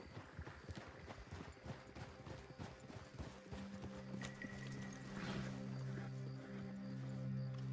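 Several horses in the western video game Red Dead Redemption 2 clopping to a halt as riders dismount, hooves and footsteps giving way to a steady low hum.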